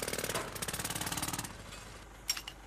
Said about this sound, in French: Le travail au marteau-piqueur génère un niveau de bruit important.